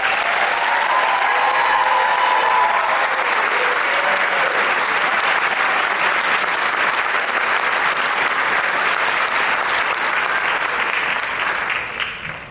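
A large graduation ceremony crowd applauds the graduating class in a dense, steady roar of clapping that holds for several seconds before tapering off at the end.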